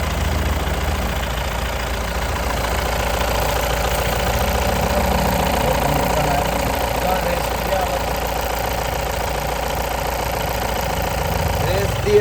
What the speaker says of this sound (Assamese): ষ্টাৰ্ট হৈ আছে এতিয়া মই ইঞ্জিনটো দেখাই দিম